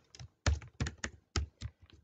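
Fingers typing code on a computer keyboard, a run of uneven, close key clicks and thunks in quick bursts with short pauses between them.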